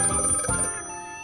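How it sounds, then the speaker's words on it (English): A telephone rings in a short bright burst that fades out quickly and is heard alone. "When Jack gets an unexpected phone call"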